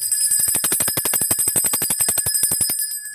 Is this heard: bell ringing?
yes